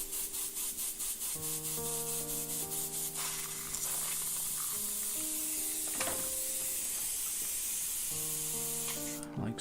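An airbrush sprays paint with a steady loud hiss that runs almost throughout, over background music with sustained synth-like notes.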